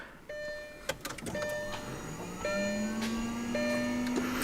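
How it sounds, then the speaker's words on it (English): Electronic chimes and tones beep over a low hum, clicks sound, then a rising whine builds steadily as the engine of a 2008 Lamborghini Gallardo Superleggera spools up at ignition. "It's cool to hear the engine powering up when you first get into this thing."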